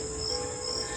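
Crickets in a hillside jungle near Sitakunda, Chattogram, give a continuous high, thin chirring drone, moderately loud and unbroken for the whole second.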